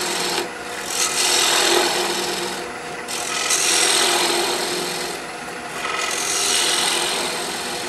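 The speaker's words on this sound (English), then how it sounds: "The beauty of that fingernail gouge is it'll cut going the other way too." Fingernail gouge cutting a turning poplar wood bowl on a lathe, a loud close rasping, scraping hiss that swells and eases in repeated passes of about two seconds each.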